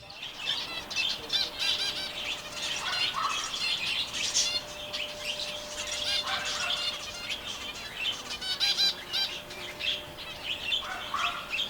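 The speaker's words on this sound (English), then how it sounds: "Zebra finches chirping non-stop with their sharp little voices, while the budgies sing and chatter even louder" Zebra finches and budgies in an aviary chirp, tweet and chatter constantly, with sharp overlapping calls and wing flutters close by, and no talking.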